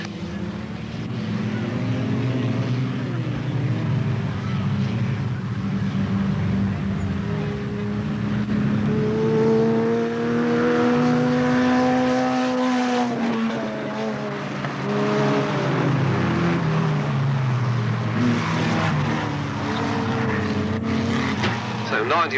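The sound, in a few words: junior race cars starting the final race at Alwalton Raceway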